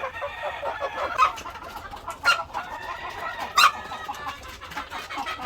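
Chickens cluck softly and repeatedly while feeding on whole corn, with a few louder, sharper squawks standing out over a constant low farmyard murmur.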